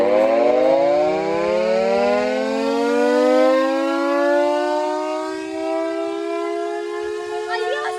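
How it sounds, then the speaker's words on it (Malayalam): A civil-defense style siren wails at Pillur dam, its tone rising slowly and holding loud and steady for several seconds, heard alone without talk. "അവിടെ നമ്മള് വീഡിയോ എടുത്തപ്പോഴത്തേന് സൈറൻ അടിച്ചിരിക്കുവാ"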